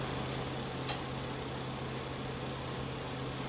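A buttered sandwich fries in a pan, giving a steady, quiet, even sizzle with a low hum beneath it and no voices.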